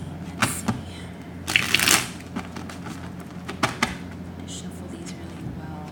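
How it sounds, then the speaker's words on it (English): A deck of tarot cards is shuffled by hand in a few quick, crisp riffling bursts near the microphone, with a person talking softly in between. "Shuffle these really well."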